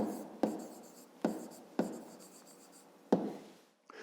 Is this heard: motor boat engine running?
no